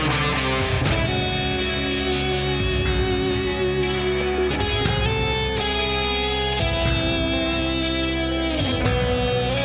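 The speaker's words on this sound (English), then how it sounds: "Sounds like he's got some of the classic wah pedal a little bit" An electric guitar plays through a wah pedal with heavy distortion and echo, a dense, continuous, loud wall of music with shifting tones and no speech.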